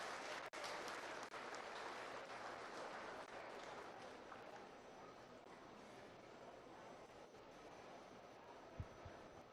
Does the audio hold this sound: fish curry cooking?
no